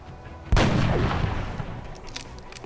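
A single sniper headshot in XCOM: Enemy Within, one sharp loud report followed by a long decaying rumble and echo, heard alone without talk.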